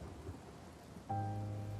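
Heavy rain pours steadily in the Philippine mountains, a dense broadband hiss, joined midway by a louder sustained tonal drone like howling wind that holds to the end.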